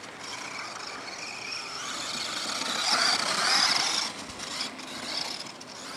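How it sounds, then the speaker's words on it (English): The electric motor of a Traxxas Summit VXL RC truck runs under load with a high, whining hum that rises and swells midway, then dips and wavers, moderately close with no talking. "just giving it a bit of a run, making the motor work a bit, to see if it shuts down"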